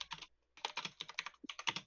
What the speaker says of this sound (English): Oh no, he's typing.